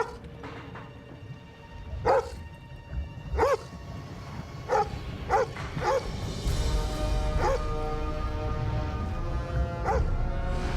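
A dog barks repeatedly in a disaster-movie scene, sharp single barks spaced a second or two apart, fairly close and loud over a rumbling background.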